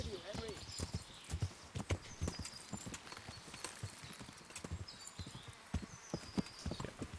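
Horse in the video game Kingdom Come: Deliverance, clopping hooves in an uneven rhythm close by with soft snorts and a brief whinny, mixed with game ambience and someone talking over it.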